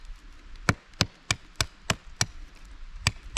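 A handmade bushcraft knife, The Bushcrafter by Pastrana Knife, whittles a point on a wooden stick with nine sharp, close chopping cuts at a fairly even rhythm against a quiet background.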